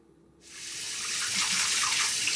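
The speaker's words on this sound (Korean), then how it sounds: "이제 물에 3번 정도 깨끗이 헹궈주고 차면에 받쳐 물기를 빼줍니다." Soaked bracken (gosari) being rinsed under a running tap, the water starting abruptly and then gushing steadily and close into a sink or bowl, with no talk.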